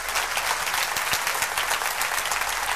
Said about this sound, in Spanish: Dale un aplauso al Rey Todopoderoso.